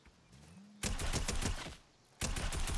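Rapid bursts from a tactical assault rifle in a video game, two loud sustained volleys of automatic fire separated by a short pause, close and dominant with no talking.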